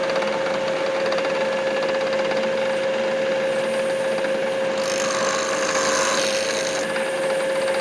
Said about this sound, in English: we are going to countersink those holes, make them a little bit cleaner and less viable to chip in the future